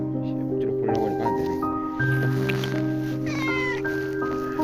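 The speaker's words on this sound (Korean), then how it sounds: "아무튼 네 고양이 친구" A cat meows repeatedly, drawn-out and insistent, close by over a steady background hum.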